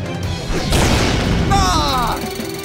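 Valkyrian the Magna Warrior's Magnet Saber attack effect, a loud booming crash that swells into a burst and is followed by rising, wavering electronic tones over a shouting voice.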